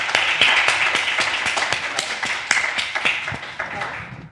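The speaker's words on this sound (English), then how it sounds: "give them a big round of applause" Applause for startup founders coming up on stage at a live investor pitch event, a dense room of clapping hands with sharp individual claps standing out, steady throughout and fairly loud.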